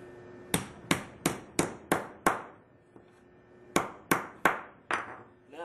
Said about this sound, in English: smash the end of each end down flat.